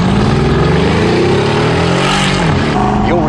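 A 2015 Mercedes-Benz S63 AMG Coupe's bi-turbo 5.5-liter V8 roars loud and close, its pitch climbing steadily as it revs hard, then shifting near the end in one continuous surge.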